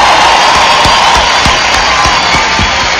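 A large crowd at an outdoor rock festival concert claps and cheers in a dense, continuous roar, with rhythmic rapid claps threaded through the loud, steady wall of noise.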